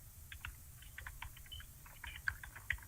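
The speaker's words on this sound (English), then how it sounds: "that's typing" Computer keyboard typing heard faintly in the background during a press briefing on Las Vegas reopening, with irregular soft key clicks and a couple of slightly sharper taps over low room rumble.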